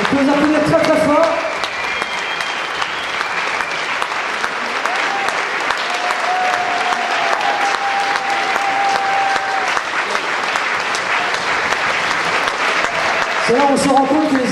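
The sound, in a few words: audience applause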